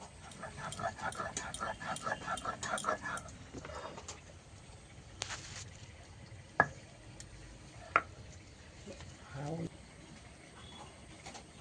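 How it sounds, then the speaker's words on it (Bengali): Cumin seeds being ground into a paste for meat in a home kitchen: quick rhythmic scraping and grinding strokes for a few seconds, then quieter, scattered knocks and rubs, all faint and close. "এদিকে জিরাই বাটছিলাম"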